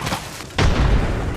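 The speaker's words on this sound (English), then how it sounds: "Tossing a grenade." A grenade goes off in the shooter game Apex Legends, a sudden loud boom that cuts in partway through and rumbles on heavily to the end.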